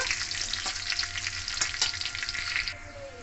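Half a spoon of panch phoron seeds crackles in hot oil for a niramish kochu shaak dish, giving a dense, continuous close sizzle with scattered pops and a brief stirring scrape, with no voices.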